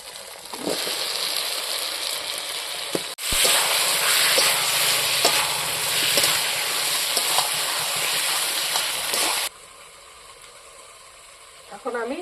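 Potatoes frying in spiced oil for a hilsa fish head curry with green banana, a loud steady sizzle with stirring clatter that suddenly drops off to a quieter hiss near the end.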